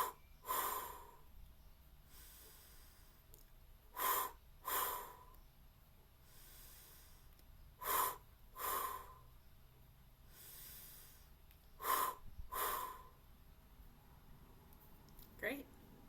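Deep breaths drawn in and pushed out in a guided breathing-and-release exercise, a slow, quiet rhythm of airy inhales and exhales repeated about four times in pairs, with a soft background hum.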